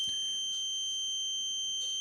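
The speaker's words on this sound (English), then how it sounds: "There it is, 10-year sealed lithium smoke alarm." A failed Kidde 10-year sealed lithium smoke alarm gives off a steady, thin high-pitched electronic tone that holds for the full two seconds, with faint clicks near the start and end and no voices.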